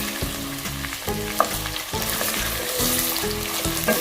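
Chicken frying with onions in oil in a pan for chicken pulao, a loud close sizzle broken by repeated scraping stirs of a utensil against the pan, steady and busy with no talking.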